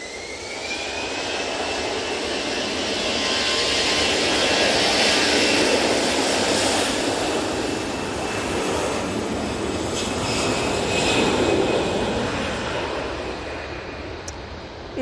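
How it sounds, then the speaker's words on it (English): An easyJet Airbus A320-200 departs Manchester Airport, its jet engines a loud broad roar that swells and fades across the whole stretch with a faint whine on top, and no voices. "easyJet off to Naples now, using an A320-200."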